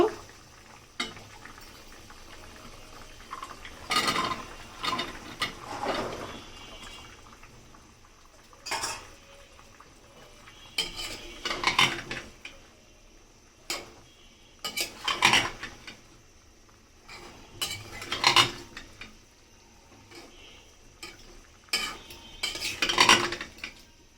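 Vegetables tipped into a cooking pot and stirred for a vegetable labra, with repeated metallic clanks and scrapes of a spoon against the pot coming in irregular bursts over a quiet background.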